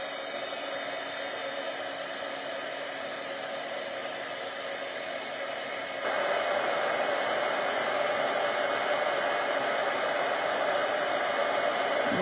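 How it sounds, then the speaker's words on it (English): Craft heat tool blowing steadily while heat-setting ink on a card, a constant hair-dryer-like whoosh that gets slightly louder partway through and runs alone with no talking. "let me get out my heat tool. We are going to heat set this."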